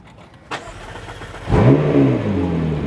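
A McLaren MP4-12C twin-turbo engine cranks and fires up, with a brief starter catch followed by a loud, steady rev that settles into a rough, rumbling idle close by, with no talking.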